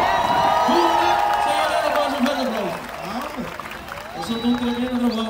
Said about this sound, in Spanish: Señor Randall Carson, un fuerte aplauso